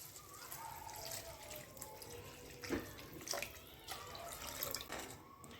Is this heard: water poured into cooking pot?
yes